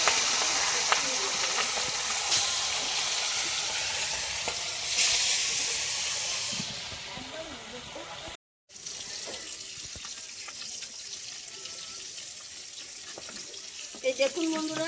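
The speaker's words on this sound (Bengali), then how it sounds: "এবার আমি ভেজে নেবো মাছটা ভালো করে।" Katla fish pieces rubbed with salt and turmeric frying in hot oil, a steady close sizzling hiss running throughout with a brief dropout partway and a few sharper crackles near the end.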